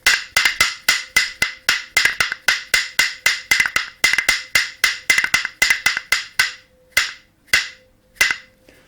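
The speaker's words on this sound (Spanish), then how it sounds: "Este instrumento se llama tejuelas, tejoletas" Two pieces of roof tile clacked together as a tejuelas percussion instrument, sharp dry clicks in fast rhythmic bursts of paired and triple strikes, slowing to a few spaced hits at the end, close and alone.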